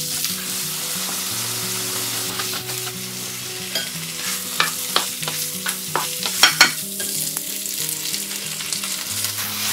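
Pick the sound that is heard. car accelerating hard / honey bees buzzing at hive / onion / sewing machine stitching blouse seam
onion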